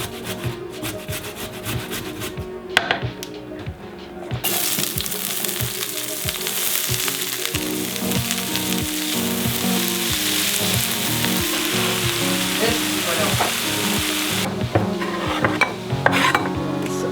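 Onions fry in oil over medium-high heat for vegetable soup, a dense continuous sizzle that swells loud after a brief lull and carries on steadily, broken by occasional stirring clatter, no talking.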